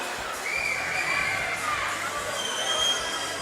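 A boisterous crowd at a weightlifting competition in Samoa cheers and shouts steadily, with excited voices and whoops filling the arena and rising slightly toward the end.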